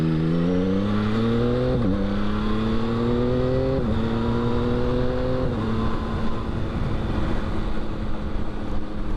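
A 2022 Yamaha XSR900 motorcycle rides steadily, its engine note climbing and dropping with three or four clear gear shifts, loud and close throughout, with no talking.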